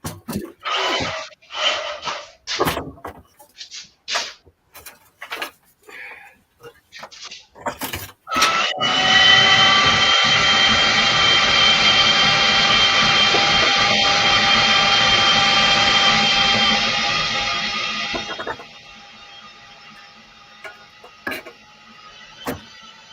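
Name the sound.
bandsaw running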